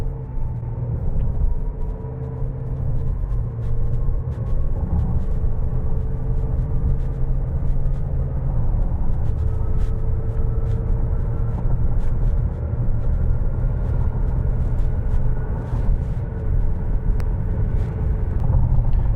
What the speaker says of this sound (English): We'll get on the highway now and see how it goes through the gears under moderate acceleration.